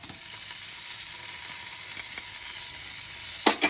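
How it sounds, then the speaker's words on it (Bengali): Spices fry in hot oil for a Bengali boal fish curry, giving a steady, close sizzle throughout, with a short clatter of stirring near the end and no talking. "এই মশলাগুলো কষাতে কষাতে এরপরে আমি এই কুচনো টমেটোগুলো দিয়ে দেবো।"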